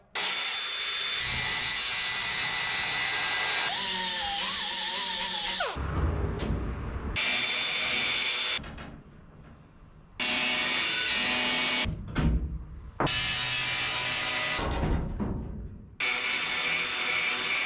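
Metal being notched to fit around angle iron on a 1977 Datsun, heard as loud, steady grinding and sawing in long bursts separated by short pauses, close by with no talk.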